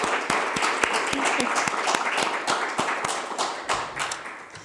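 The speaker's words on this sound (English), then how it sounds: "I'm going to ask the 10 people in this room to give you 4 students a big round of applause" Small room of about ten people applauding four students at a December breakfast gathering, a steady wash of close hand claps with sharp individual slaps throughout, easing slightly toward the end.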